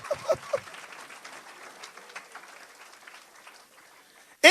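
A church congregation applauds in a quick burst of clapping that tapers off into a thinning patter before a loud cut at the end.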